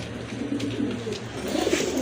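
Pigeons on a pigeon farm give low, repeated throaty coos close by, in a soft, rolling rhythm with no talking.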